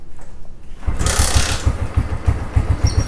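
A cold motorcycle engine cranks over and catches, settling into a loud, rapid, rhythmic putter after a brief quiet start.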